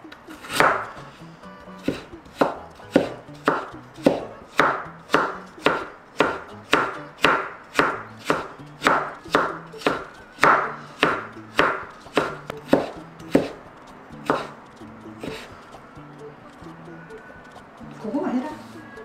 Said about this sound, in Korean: 당근은 좀 채를 얇게 썰어줘야 돼요